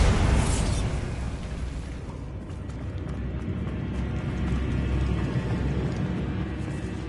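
A Bombarda explosion spell goes off in Hogwarts Legacy on PS5: a loud blast at the start gives way to a steady, heavy rumbling roar that continues throughout.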